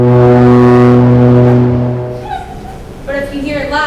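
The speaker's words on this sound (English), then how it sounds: "In the distance, a foghorn is comforting." A loud, deep, sustained foghorn blast sounds in a high school drama performance, holding steady for about two seconds before fading as voices speak.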